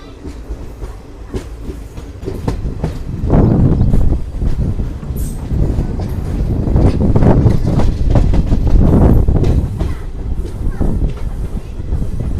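Passenger train pulling out of Piduguralla station, its rumble building into a loud steady roll with wheel clatter heard from on board, under faint talk.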